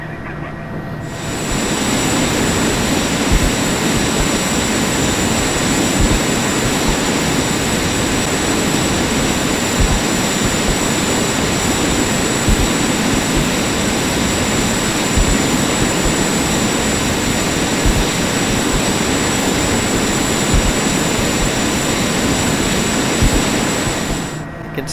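Cessna Citation Mustang jet taxiing in a flight simulator game, a steady loud turbine whine and roar with a high tonal hum, constant for the whole stretch without talk.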